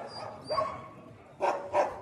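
Stray dogs at a mountain shelter caring for over 260 animals bark and yip, a few sharp barks over a steady outdoor background, with two louder barks near the end.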